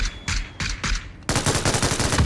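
Automatic gunfire in the battle royale game PUBG: a few spaced heavy shots, then a rapid continuous burst of loud, close fire with sharp rhythmic cracks.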